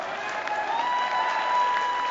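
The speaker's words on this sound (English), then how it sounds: "Give Ginger a huge round of applause." A live magic show audience applauds a volunteer named Ginger, steady clapping filling the room with a faint sustained tone running underneath.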